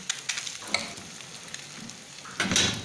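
Egg frying in a pan on low heat for a simple breakfast: a steady soft sizzle with crackly pops, swelling briefly louder near the end as if turned or stirred, with no talk.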